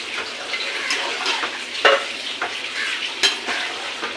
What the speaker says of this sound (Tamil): அது நல்லா கலக்கி விட்டுக்கலாம்.